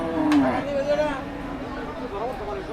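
Big cattle mooing at a crowded cattle market in Kaitlala, with one long, loud low moo at the start and softer lowing after, amid chatter and crowd noise.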